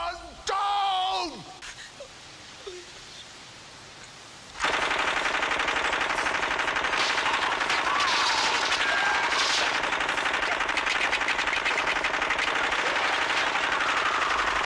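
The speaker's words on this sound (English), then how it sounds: "ending with Heidi going on a rampage with a machine gun." Sustained rapid machine gun fire from a rampage scene in the puppet film Meet the Feebles, loud and continuous for about ten seconds after a brief stretch of shouting voices and quieter effects at the start.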